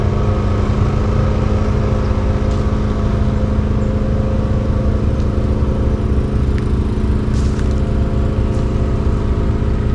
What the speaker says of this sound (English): Sorry for the noise. Generators are running.